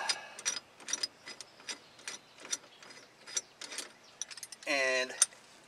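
A Jeep Wrangler YJ ignition lock cylinder ring is unscrewed, with a series of sharp metallic clicks at a halting rhythm, ending in a quick ratcheting burst, close and fairly clear.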